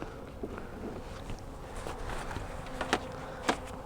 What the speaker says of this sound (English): the bees don't try and go out the bottom